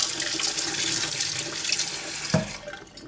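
Tap water runs steadily over a plated tin toy car part during rinsing, a continuous mid-level hiss and splash ending with a brief clatter and trailing off.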